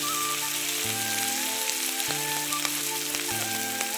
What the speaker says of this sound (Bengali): এবার ওই আলুর মধ্যে আমি পেঁয়াজকালিগুলো দিয়ে ভেজে নেব।